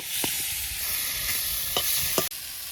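Fish curry sautéing in a pan at an outdoor village cooking spot, a soft continuous sizzle punctuated by several sharp utensil knocks and stirring scrapes, no voices.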